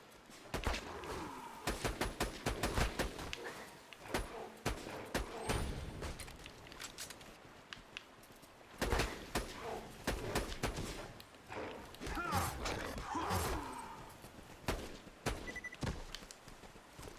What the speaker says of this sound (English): We'll pull out this so that we can shoot it in the face a bunch, get it all killed and stuff